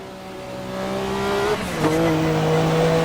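Race car engine in a VR racing game on the Nürburgring Nordschleife, fitted with softer tires and reduced turbo: a steady, rising engine drone with a brief dip in pitch at a shift, then climbing again.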